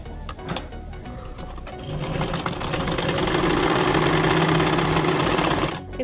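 A sewing machine stitches the neckline fabric of a maxi dress, with a steady, close, whirring run that builds after a few stop-start clicks and then eases off near the end.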